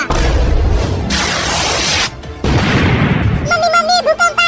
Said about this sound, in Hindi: लगता है किसी ने हमारे घर के पास एक बड़ा पटाखा फोड़ दिया है